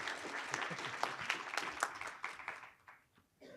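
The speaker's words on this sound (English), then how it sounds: "A round of applause, please, for the people who made this happen today." Applause from a symposium audience thanking the organizers: a fairly quiet, distant-sounding crowd clapping steadily, thinning and tapering off toward the end of the burst.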